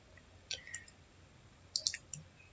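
Computer mouse clicks during a walkthrough of a Moodle learning site: several sharp, close clicks spaced apart in a quiet room, with no talking.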